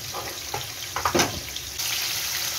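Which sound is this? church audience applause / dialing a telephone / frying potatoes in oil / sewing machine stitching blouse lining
frying potatoes in oil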